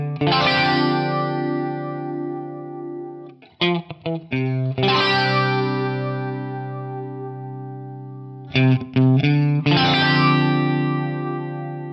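A guitar is played clean first, then through a UAFX Astra flanger modulation pedal, giving sustained chords with sweeping, swirling modulation, two short choppy strums between longer ringing passages, loud and close with no talking.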